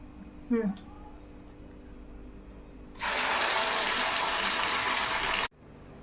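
Ground masala paste poured into a hot pan while cooking paneer butter masala sets off a loud, steady hiss that starts suddenly and cuts off a few seconds later, after a brief earlier sound.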